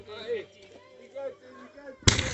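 A Fourth of July firework explodes with one sharp, loud bang near the end, following a stretch of quiet talk, its roar lingering briefly afterward.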